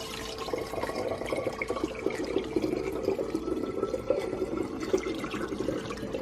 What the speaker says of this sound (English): I'm going to pour my water into my bottle here.